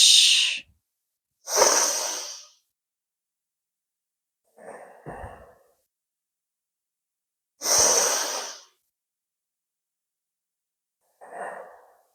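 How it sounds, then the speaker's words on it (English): Slow breathing during gentle chair yoga: five long, soft breaths spaced across the stretch, alternating fuller airy inhales with quieter exhales, close and alone with silence between. "Breathing in and breathing out."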